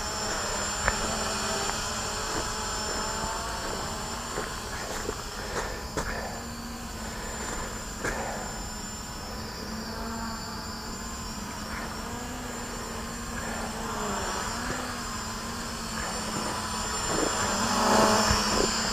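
A Hubsan X4 Desire toy quadcopter flies outdoors in calm air, its tiny rotors giving a steady high-pitched buzzing whine at moderate distance that swells slightly louder toward the end.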